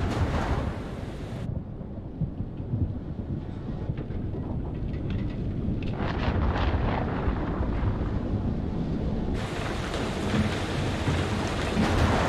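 Steady heavy rain hisses throughout with deep rolling rumbles of thunder, a dense continuous storm with no voices, in the video game Man of Medan.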